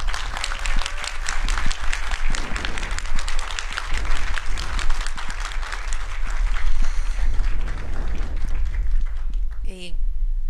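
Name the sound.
audience applause for speaker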